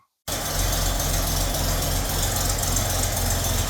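A rebuilt 1920 Nash car engine runs and idles after starting, a loud steady close rumble that begins abruptly after a brief silence and stays even, with no talk.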